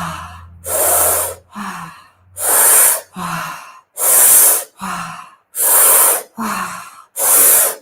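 Deep, slow breathing exercise with long, loud breaths repeated at a steady rhythm, each roughly a second long and separated by short pauses, with audible rushing air on inhales and exhales. No one speaks.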